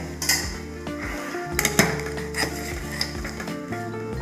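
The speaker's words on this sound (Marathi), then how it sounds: "आता आपण हे एका ताटामध्ये काढून घेऊया." Pieces of fried fish lifted from the pan onto a metal plate for a village-style fish fry, giving several close clinks and knocks of utensils against dishes, spread unevenly over a few seconds with no talk.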